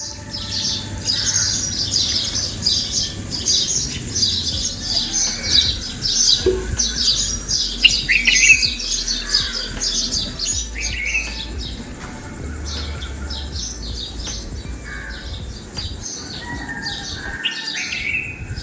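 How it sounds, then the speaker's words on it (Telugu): Several birds chirp and squawk in the early morning, a busy overlapping chorus of calls near and farther off over a faint low background hum, with no talking. "పొద్దున్నే ఇలా ప్లెజెంట్గా ఆ బర్డ్ షేపింగ్ సౌండ్స్తో వెదర్ అయితే సూపర్ ఉండింది"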